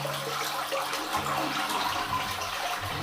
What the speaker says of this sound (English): The flush is good.